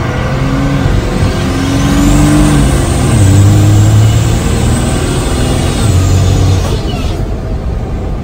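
A compound-turbo Cummins diesel pickup revs hard from inside the cab, its loud droning engine note rising, holding and falling with a whistling turbo spool over the top, then settling back down.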